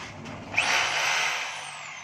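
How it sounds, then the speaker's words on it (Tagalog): A DeWalt D25032 rotary hammer drills into steel, starting abruptly and then grinding in a loud, continuous high-pitched whine with a rising tone that slowly fades toward the end, with no voices heard. "Nalagyan natin ng bala mga kabay para malaman natin kung gumagana yung hammer."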